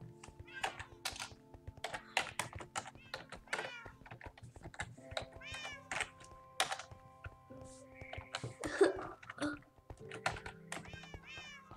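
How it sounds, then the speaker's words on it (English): Computer keyboard typing while playing the multiplayer game Bed Wars: quick, irregular key clicks and taps, fairly close, with a cat meowing repeatedly throughout. "I'm gonna type in"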